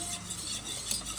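A wire whisk stirs a flour mixture in a bowl for a simple pandan dish, making a steady, close scraping and swishing texture with no voices.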